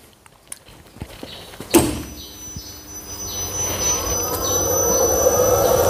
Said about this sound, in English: So you can see it is gradually coming up the frequency, and even the motor also, it doesn't stutter during the start.